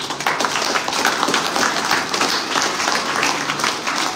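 Audience at a school award show, a creative talent hunt, claps loudly and steadily throughout, a dense wash of many hands with no voices over it.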